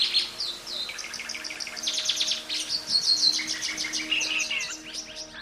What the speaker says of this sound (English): Red-wattled lapwing.